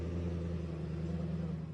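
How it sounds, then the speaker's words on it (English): A car engine rumbles low and steady nearby, a continuous deep hum with slight pulsing and no talk over it. "Others arrive in fancy cars,"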